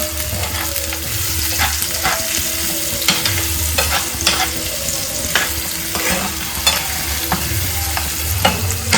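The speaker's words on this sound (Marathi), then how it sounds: "एकदा मिक्स करून घेऊया।" Softened tomato cooking in a pan, stirred with a spoon: a steady close sizzle under repeated rhythmic scraping and low swishing strokes, about one every second, with occasional sharper clicks against the pan.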